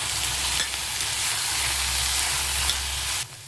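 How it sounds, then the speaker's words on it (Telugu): Eggplant pieces and onions sizzle in a hot pan with a loud, continuous frying crackle and occasional stirring scrapes. The sizzle comes from close up and plays alone, without talk. "ఉల్లిపాయలు మగ్గిన తర్వాత దీంట్లో వంకాయ ముక్కలు వేసుకోవాలి. వేసుకుని ఇవి కూడా మగ్గించుకోవాలి."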